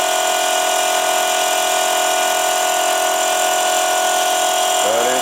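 Milling machine driving a dovetail cutter through a slow final cut in metal, a loud, steady whine with a constant tone running throughout and a brief shift in pitch at the very end.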